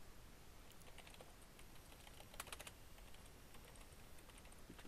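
Quick, light key clicks on a computer keyboard running a Windows 2000 machine, with a brief burst of several taps near the middle, faint against a steady hiss.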